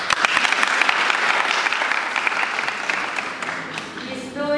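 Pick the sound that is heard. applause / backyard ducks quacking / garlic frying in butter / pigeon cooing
applause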